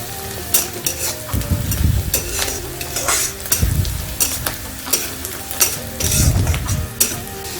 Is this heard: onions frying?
yes